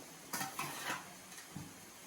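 Soft cooked brinjal pieces gently tossed in a pan for pickle, a few quiet scraping and clinking strokes of a utensil against the pan in short bursts, faint and close, no talking.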